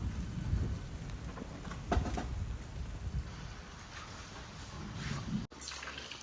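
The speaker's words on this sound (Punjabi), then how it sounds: "ਮੀਂਹ ਦਾ ਪੈਣੇ ਲੱਗ ਗਿਆ" Steady rain pattering with a low rumbling wash underneath, fairly quiet and continuous, with a brief dropout near the end.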